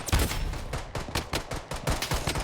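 Rapid pistol gunfire in the shooter Blood Strike, a fast run of sharp, loud shots in close succession with brief gaps, near and without talk.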